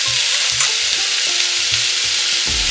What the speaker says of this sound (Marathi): आता या सगळ्या भाज्या आपण छान परतवून घेणार आहोत.